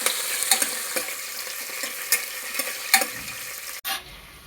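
Green chillies and cashews fry in a pan, a steady close sizzle broken by irregular stirring scrapes and clinks, ending in a brief sharp knock before the frying continues more quietly.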